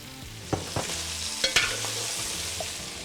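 Sausage and turkey brown in a hot pan with a steady close sizzle, broken by a few sharp clacks and scrapes from a utensil stirring the meat.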